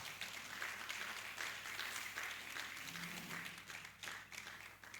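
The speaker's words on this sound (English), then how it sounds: "A round of applause as we welcome Mr. Felix Logah." An audience at a nonprofit summit keynote gives dense, sustained applause that welcomes the speaker, even and continuous throughout, with no voices standing out.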